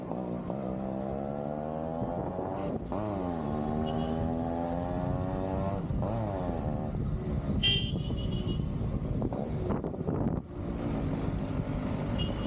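A second-hand Yamaha RX two-stroke motorcycle is ridden on a test round, its engine revving up and down in repeated rising and falling sweeps, loud and close, with brief gear changes and a horn-like toot.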